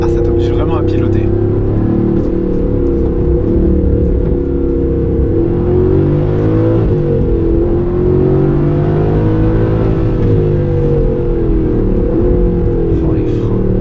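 A 2019 Aston Martin Vantage AMR with a manual gearbox brakes and downshifts into a corner, its engine note dropping and then rising in loud in-cabin drone, with a voice talking over it.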